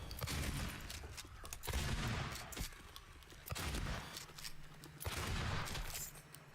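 Several bursts of gunfire in the survival horror game Silent Hill 2, loud close shots in clusters separated by short pauses, with booming low thuds mixed among them and no speech.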